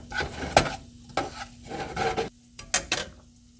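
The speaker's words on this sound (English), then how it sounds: "I think what I'm going for right now is some kind of breakfast stir fry" A breakfast stir fry sizzling in a pan as a utensil scrapes and stirs it in bursts, a steady close fry hiss underneath with no talking.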